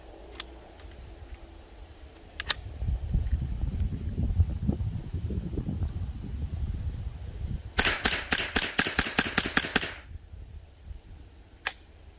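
A rapid string of about ten sharp gunshots cracks out in quick succession from a 7022 rifle on a shooting range, preceded and followed by single isolated shots amid outdoor background noise.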